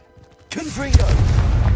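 A Confringo blasting spell goes off in Hogwarts Legacy: a sudden loud booming burst about halfway through, followed by a sustained low rumble, with a brief voiced call just before it.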